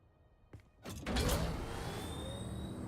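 A damaged vehicle motor in a video game with a blown engine: a couple of faint knocks, then a loud, steady grinding drone with a rising whine that holds to the end, and no voices.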